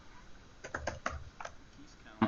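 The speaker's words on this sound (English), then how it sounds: "He's typing the username of user peer and the password of 12345 or something." Typing on a computer keyboard during a security demonstration: a quiet, irregular string of soft key clicks in a low-level room, ending with one sharper keystroke.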